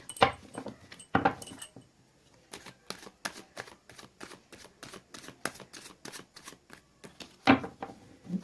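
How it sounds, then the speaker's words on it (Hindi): Tarot cards being shuffled on a table, a steady run of crisp riffling snaps and flicks, soft and close, with a few louder taps at the start and end and no talking. "मैंने कर ली है कार्ड्स की सफलिंग"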